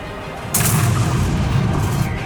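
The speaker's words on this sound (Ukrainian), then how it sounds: "вицілював наш гриль 15 туди, снаряд і полетів точно у центр" A Grille 15 tank destroyer fires its gun in World of Tanks: one sharp, loud cannon blast followed by a heavy rumbling boom that lingers to the end.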